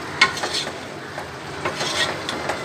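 A spoon repeatedly scrapes and stirs chicken fried rice with egg in a pan, producing soft rhythmic rasping strokes with light sizzling underneath and no voices.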